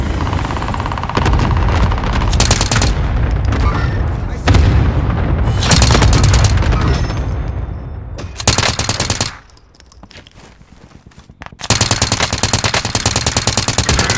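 Rapid bursts of gunfire from a Milano used like a sniper rifle in Call of Duty: Warzone, loud and dense with booming shots, fading briefly before another heavy volley returns.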